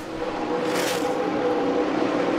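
NASCAR stock cars roar around Michigan's oval on the final lap, engines droning loud and steady with a passing surge near the middle, crowd-level wash beneath.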